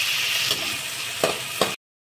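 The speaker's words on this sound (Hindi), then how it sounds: "टमाटर भी इसी के साथ भून लेंगे" Onions and tomatoes sizzle steadily as they fry together in a pan, a dense continuous crackle with two sharper stirring clinks near the end before it cuts to silence.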